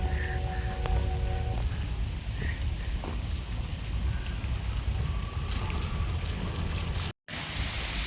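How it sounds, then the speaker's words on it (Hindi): Heavy rain falls in Regent's Park, London, in autumn, a constant hiss of drops filling the whole stretch, with a few faint tones in the background and a brief dropout near the end. "So it started raining heavily."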